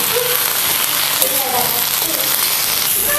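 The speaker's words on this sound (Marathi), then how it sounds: "ते पण गूळ घालूया, आणि चांगलंच आपल्याला हे शिजवून घ्यायचं आहे" Jaggery mixture cooks in a pan for a festive puran poli meal, a steady bubbling sizzle with faint utensil clinks, fairly loud and continuous.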